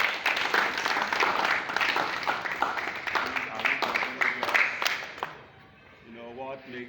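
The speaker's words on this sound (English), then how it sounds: "So why not give a clap of it to ourselves?" A crowd claps loudly and steadily at a Rivers State Command annual state route march gathering, then the applause fades out and a voice takes over.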